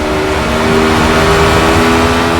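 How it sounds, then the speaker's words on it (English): Ariel Atom 500 engine revving hard on an open California highway in the Project Cars racing game, a loud, steady high-pitched drone holding its pitch throughout with no breaks. "You can just let loose, open up the engine and go for it."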